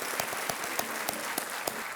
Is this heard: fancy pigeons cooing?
no